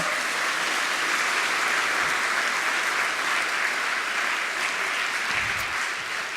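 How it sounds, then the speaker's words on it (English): Steady, dense applause from an audience at the University of Waikato Three Minute Thesis finals in 2013, greeting the judges as they are introduced. The clapping holds at an even level throughout, with no voices over it. "Round of applause for the handsome one."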